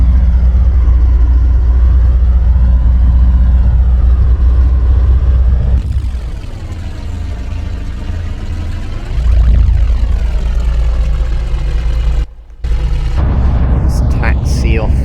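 Avro Shackleton propeller aircraft taxiing after landing, its piston engines droning loudly and steadily at close range, the pitch rising and falling as power changes, with a brief dropout near the end.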